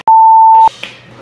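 A single loud, steady electronic censor bleep lasts about half a second, cutting over speech, followed by faint room noise and a short clatter.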